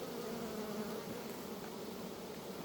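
Honeybees in a hive that was woken from winter at four frames strong hum in a steady, dense, continuous drone, close and unbroken throughout.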